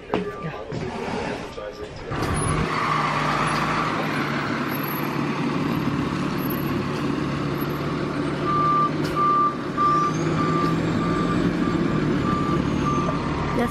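A tow truck backs up with a steady run of repeated reversing beeps over its idling engine, arriving to collect an old car for donation, with people talking nearby throughout.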